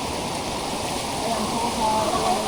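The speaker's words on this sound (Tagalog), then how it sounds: "Ang ganda ng mga umaagos sa tubig guys." Water rushes and flows steadily nearby, a constant loud wash of noise that swells slightly toward the end.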